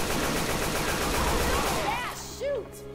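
Dense gunfire from the video game Left 4 Dead 2 rattles as a loud, rapid, continuous burst, then thins out near the end as a short electronic sweep rises.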